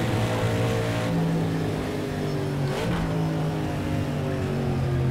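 A race car engine in Project Cars 2 drones steadily and loud throughout, with layered harmonic whine and a brief pitch shift around the middle as revs change.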